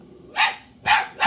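A dog barks three times in quick succession, sharp and fairly close, each bark separated by a short pause with no talking.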